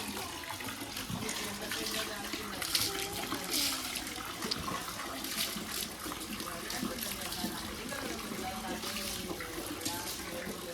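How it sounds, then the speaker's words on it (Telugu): Water runs and splashes steadily nearby as it is poured over a dog during a bath, like pouring from a tap or mug, with faint voices underneath. "ఇప్పుడు వాటర్ పోసుకొని స్నానం చేయించేసేయాలి"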